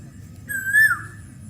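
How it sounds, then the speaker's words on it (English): A single clear, rising whistled call of an Asian koel, a note that swells and then drops, over faint low background rumble. "This repetitive, melodious call has often inspired poets and singers"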